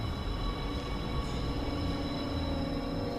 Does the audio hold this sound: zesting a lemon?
no